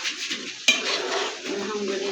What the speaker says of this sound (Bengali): এখন আমি ঢাকনা ঢেকে দিচ্ছি, চুলায় বসিয়ে দিচ্ছি